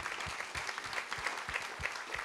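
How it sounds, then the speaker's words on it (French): An audience applauds at a French event on arts and early childhood: steady, dense clapping from a crowd, with no talk over it, holding an even level throughout. "On peut les applaudir."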